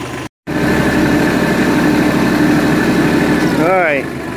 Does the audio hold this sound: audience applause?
no